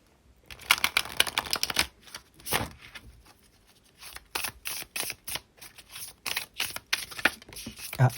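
Tarot cards shuffled by hand in repeated crisp riffling bursts, with short pauses between them and one card flicking loose near the end, close and fairly quiet with no speech.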